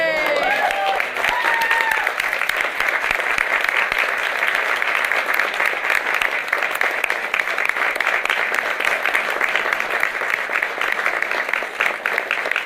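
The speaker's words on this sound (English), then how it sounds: "Everybody's clapping for what?" A large crowd claps in a dense, sustained round of applause that stays loud and even for more than twelve seconds. A few voices call out faintly at the very start.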